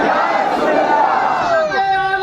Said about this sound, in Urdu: فضا میں لہرا کے نعرے کا جواب دیجیے